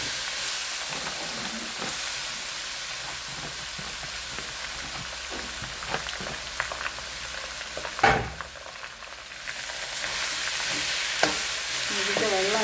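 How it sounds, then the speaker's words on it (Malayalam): Food sizzles steadily in a pan while a utensil stirs it, scraping and clattering now and then; a sharp burst near the middle briefly flares louder before the even frying hiss carries on, close and moderately loud with no talk. "ഇതിൻ്റെ വെള്ളമെല്ലാം പറ്റണം, ഫ്രൈ ആയി കിട്ടണം. അത് വിട്ട് കഴിഞ്ഞു അത് വരെ നമുക്ക് ഇളക്കാം."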